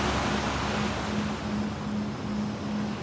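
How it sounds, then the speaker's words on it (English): Calming ocean waves give a steady broad wash of surf, fairly faint and continuous, with a low repeating hum beneath and no voices. "enjoy the calming sounds of the ocean"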